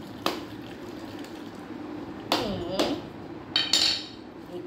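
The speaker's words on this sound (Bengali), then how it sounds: "এই যে নারকেল ফাটাচ্ছি" A coconut is struck open with a few sharp, hard cracks, one early and then a cluster of knocks later, followed by a faint splash of water. The setting is a home kitchen during Janmashtami preparations.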